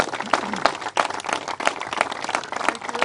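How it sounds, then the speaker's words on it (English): A crowd at a Labor Day bill signing by New York's governor applauds Roberta Reardon, with uneven clapping from many hands and distinct sharp claps standing out over a low crowd murmur. "I want to give her a round of applause for her amazing leadership"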